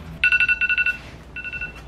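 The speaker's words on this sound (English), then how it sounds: "And that's my alarm." A phone alarm rings in quick repeated electronic beeps, about eight pulses in a steady burst, then a short pause and a second, softer run of beeps; clear and close, with no talking over it.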